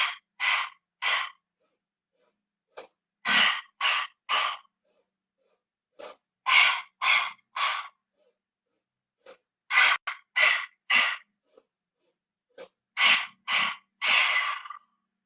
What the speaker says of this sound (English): There is your triple ribcage breathing.